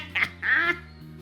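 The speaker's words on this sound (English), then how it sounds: "Quack button. I love when they add in a quack button." Two short cartoonish duck quacks from the quack button in the Duck Detective: The Ghost of Glamping game demo, close and clear over a quiet steady game background hum.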